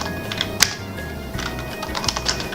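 Rapid, uneven clicks of a computer keyboard as a name is typed into a virtual machine setup, close and crisp, with a few sharper key hits and a steady low hum underneath.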